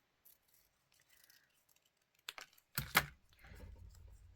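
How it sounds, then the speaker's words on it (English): Scissors cutting out a circle for DIY flowers, a few quiet close clicks and snips, then a louder burst of cutting and handling noise near the end. "I'm just going to cut out this circle quickly"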